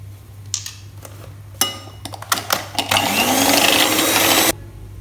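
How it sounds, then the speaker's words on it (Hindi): An electric mixer beating milk and vanilla into cake donut batter: short clinks and stops at first, then a loud, steady whirring run that cuts off abruptly. "इसको भी अब हम अच्छी तरह से इसके अंदर बीट कर लेते हैं"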